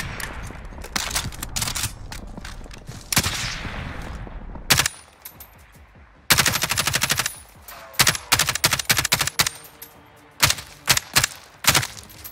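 Call of Duty Warzone gunfire fills the scene: long rapid automatic bursts and clusters of loud close shots, broken by short pauses and quieter stretches, then several separate heavy shots near the end.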